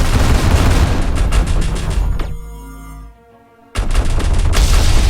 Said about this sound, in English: this is all of our lasers opening up